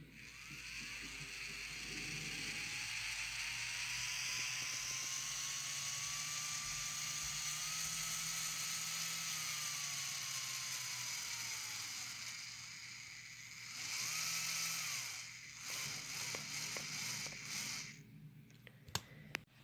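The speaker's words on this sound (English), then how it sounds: "with this potentiometer I can control the speed of the motor" A small electric motor whines steadily, its pitch slowly rising and falling as a potentiometer changes its speed, then stopping and restarting near the end with clicks.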